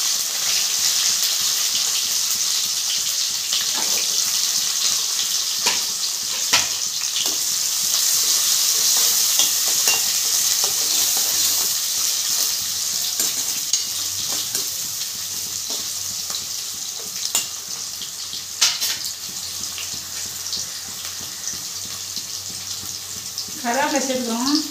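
Onions frying and being stirred in a pan for a prawn curry with cauliflower and butter beans. A constant close hiss of sizzling oil runs throughout, with scattered scraping stirs and a brief squeaky sound near the end.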